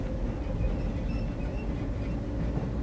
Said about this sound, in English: Stop the train, please.